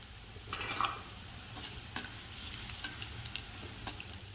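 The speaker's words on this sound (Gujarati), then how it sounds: "ત્યાર પછી અહીંયા મીઠા લીમડાના પાન લીધા છે, એને પણ આપણે ફ્રાય કરી લઈશું" Green chillies and curry leaves fry in hot oil for a puffed-rice chevda snack, a quiet steady sizzle and crackle with a few sharper pops and stirring scrapes, no voices.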